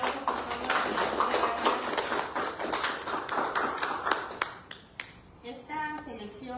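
Audience applause at a book presentation of a poetry collection, a moderate scatter of hand claps that thins out and fades, with a voice starting to speak as it ends.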